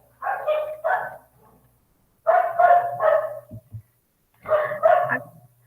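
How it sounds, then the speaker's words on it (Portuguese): Dogs barking nearby at home in three short bursts of two or three quick barks each, separated by pauses of silence, loud and clear with no talking. "meus cachorros começaram a latir e tá me incomodando"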